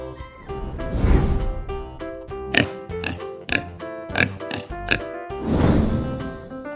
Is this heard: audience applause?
no